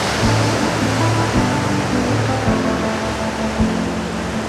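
Ocean waves surge steadily into a rocky rockpool, a continuous loud wash of churning water with heavier swells rolling in at regular intervals, no voices.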